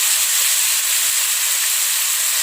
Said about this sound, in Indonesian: Setelah ikan terinya matang, baru kita masukkan yaitu bumbu yang kita blender tadi.